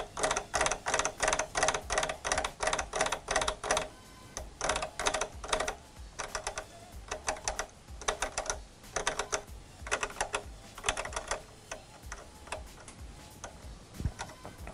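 A DJ performs a crab scratch on a turntable, with rapid fluttering clicks in rhythmic bursts that stop and start, close and fairly crisp, with no talking.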